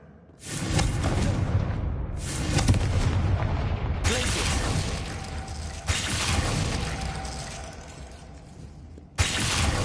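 Repeated loud blasting-spell explosions in the Hogwarts Legacy video game, several heavy booming bursts each ringing out and decaying, separated by short gaps, with no talk over them.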